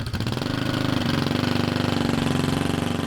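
A Honda CL350 Scrambler motorcycle engine runs steadily and close, a loud, even, throbbing beat with no voices over it.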